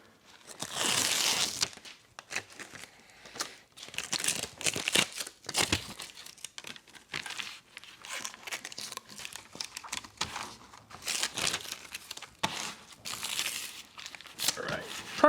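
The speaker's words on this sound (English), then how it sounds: "Let's get some tape." Tape pulled and torn off a roll while making custom door panels for a Trans Am, giving bursts of crinkly ripping and crunching at close range, with speech heard at moments.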